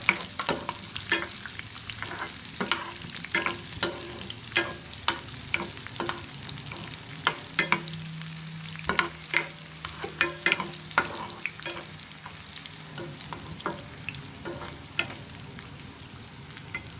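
Chopped garlic and ginger frying for a masala egg curry, a constant close sizzle with sharp regular clicks of a spoon scraping the pan throughout, no voices.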